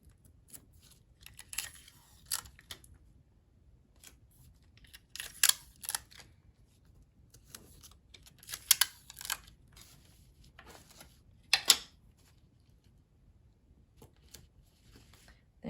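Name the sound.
applying pieces of tape to napkin corners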